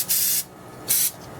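Two bursts of aerosol cleaner sprayed through a 1984 Yamaha IT490 carburetor part, a longer hiss followed by a shorter one after a pause, close and fairly loud.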